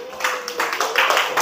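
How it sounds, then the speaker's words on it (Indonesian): Short burst of classroom clapping for a student group, a quick patter of hands lasting about a second and a half, fairly close and moderately loud. "Tepuk tangan untuk kelompok"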